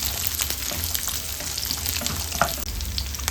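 Cut pieces of coconut frying in a pan for breadfruit sambar, a dense, loud crackling sizzle that runs throughout, with a few sharper pops and light stirring sounds.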